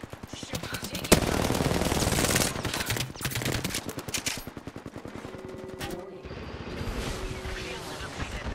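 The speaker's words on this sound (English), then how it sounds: "They're shooting at me. I'm under fire." Gunfire in the battle royale game Apex Legends, dense rapid shots sustained through most of the stretch with a sharp loud crack early on, mixed with game announcer voice lines and effects.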